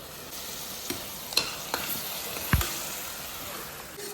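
Onions sautéing in a pan for chicken thokku with coconut milk pulao, a soft steady sizzle broken by a few sharp spoon taps and scrapes, close and fairly quiet, without speech.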